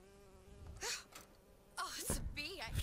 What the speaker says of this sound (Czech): Včela?